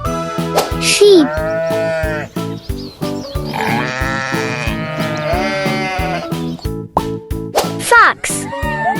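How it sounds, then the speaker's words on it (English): Sheep bleat several times, loud and close, their wavering cries rising over a steady, rhythmic musical beat. "sheep"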